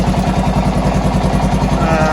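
Honda TLR200 trials motorcycle idling at about 620 RPM, a steady low pulsing thump repeating evenly throughout, close and fairly loud with no other sounds.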